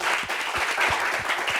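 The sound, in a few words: studio audience applause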